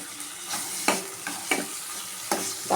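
A chopped tomato sautés in a pan with onion for a Bombay chutney, steady sizzling broken by four or five distinct scraping stirs of a spoon, close and alone without speech.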